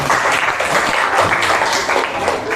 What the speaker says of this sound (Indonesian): tepuk tangan dulu untuk Aulia